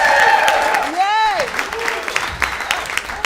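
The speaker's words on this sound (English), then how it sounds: "Guys, one more time for Tina Friml" Audience applause and cheering at a live comedy show in St. Louis, a steady broad wash of clapping and crowd noise throughout, with a host's voice calling out over it.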